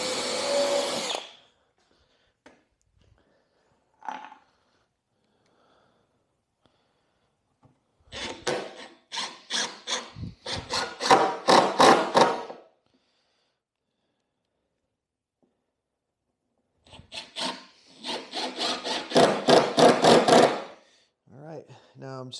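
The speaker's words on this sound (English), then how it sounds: "I'm going to go ahead and pre-drill both of these" Two bursts of a battery-powered drill pre-drilling wood, each a few seconds of rapid rattling whir, separated by quiet stretches with a brief knock early on.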